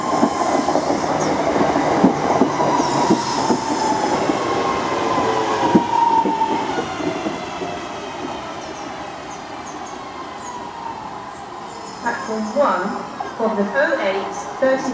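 A London Midland train rumbles and clatters through University station in Birmingham, wheels squealing and a descending whine as it slows, with a brief announcement voice in the background.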